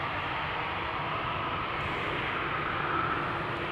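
Lufthansa Airbus A340-600 airliner at Amsterdam Schiphol Airport, a steady loud jet engine roar with a broad rushing hiss that holds constant throughout, with no voices.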